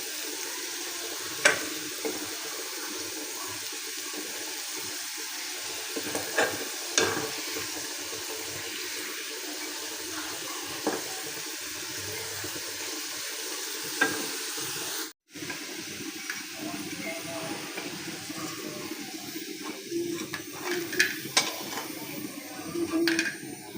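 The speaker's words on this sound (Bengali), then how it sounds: "এখানে আমি ভেজে নিতেছি" Potato sticks for French fries frying in a pan give a steady, close watery hiss with faint bubbling and a few soft clinks, continuous throughout with no talking.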